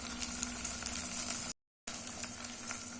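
Fresh green peas tossed into a hot pan for a vegetable millet pulao give a steady, close sizzle with light frying crackle. The sizzle stops for a brief moment midway, then carries on as before.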